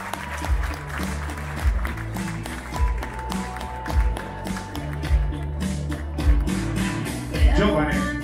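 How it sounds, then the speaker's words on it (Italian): Audience applause for Silvia at a crew talent show aboard the MSC Opera cruise ship, clapping layered over a rhythmic musical beat with thumping accents that pulse through the whole stretch. "applauso alla signora Silvia"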